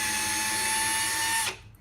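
A power drill drilling into wood whines at a steady high pitch, close and loud, then winds down abruptly near the end.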